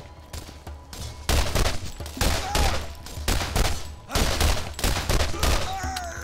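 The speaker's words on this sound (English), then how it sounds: "I missed a lot of shots there" Rapid bursts of gunfire from the Borderlands video game crack out in irregular clusters, loud and close, with brief gaps between volleys and a faint ring of impacts underneath.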